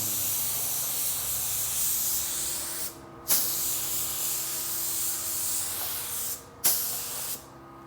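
Two long bursts of spray paint hiss close by as a first coat goes onto a BMW K100 motorcycle part, each broad airy spray broken by a brief pause before the next pass.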